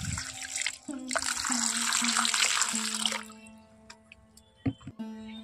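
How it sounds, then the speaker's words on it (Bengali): Peeled raw mangoes are dropped into a bowl of water while being prepared for amchur powder, giving a sustained watery splashing and pouring sound that later thins to a few scattered drips and small plops. "এরকম জলের মধ্যে কিন্তু দিয়ে দেব সঙ্গে সঙ্গে"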